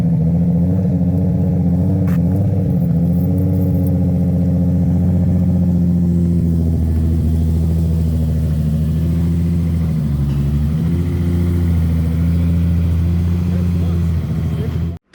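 A car engine hums steadily from inside the cabin on the drive home, a low continuous drone with faint variations in load, running throughout with no talk over it.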